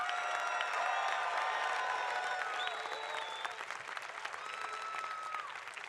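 Graduates at the 2017 Cal Poly Spring Commencement applaud their faculty and staff, a broad wash of crowd clapping heard from a distance in a large venue, with faint musical tones and some cheering mixed in.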